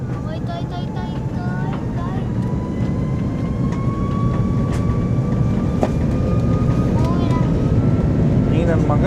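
A seaplane takes off in the Maldives, its engine a steady broad drone with a rising tone that holds throughout, heard from nearby beneath continuous wind or water noise and some background talk.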